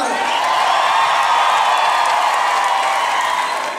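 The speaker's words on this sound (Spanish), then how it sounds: "¡Un aplauso, por favor!" Concert audience at a show cheering and applauding in a dense, sustained roar that swells and then slowly tapers, loud and close with no clear voices over it.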